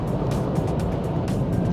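Engine note of a 2021 Kia Stonic accelerating up to 110, a steady, muted drone heard from inside the cabin, mixed with road and wind noise and no rise in pitch.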